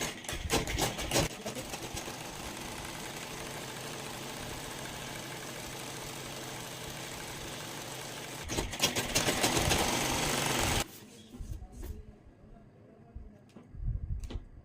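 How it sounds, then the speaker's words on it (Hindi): Sewing machine running a long continuous stitch line to gather dress fabric, a steady mid-level whir for about ten seconds that stops abruptly, followed by faint handling noises and a short burst at the end. "गेदर्स बनाने के लिए इसके ऊपर एक सिलाई लगा लेनी है हमें 5 नंबर की।"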